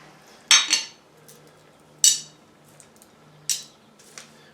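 Small metal bolts for a SW Motech skid plate on a 2021 Kawasaki KLX300S clink as they are handled. Three or four sharp, close metallic chinks come at spaced intervals against a quiet background.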